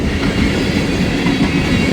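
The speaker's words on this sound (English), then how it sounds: "Empty ethanol train, probably headed back to Bensonville, Illinois" An empty ethanol freight train rolls past nearby, a loud continuous rumble of railcars with clickety-clack wheel rhythm and faint squeal.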